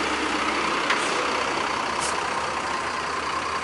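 Sinar Jaya Suites Class bus parking at the Palembang agency, its engine rumbling steadily with a couple of brief air-brake hisses heard over the continuous noise.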